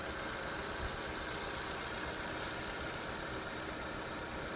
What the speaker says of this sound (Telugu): వెహికల్ స్టార్ట్లో ఉంది